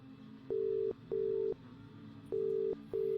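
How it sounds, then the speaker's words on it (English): A telephone ring sound in a deep forest horror story, four even tonal bursts in two pairs with short gaps, clear and alone over a low background hum. "The phone rang out again in front of me"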